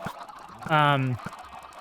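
A single short, nasal clucking call from a chicken in the Minecraft SkyBlock video game, clear and alone against faint background noise.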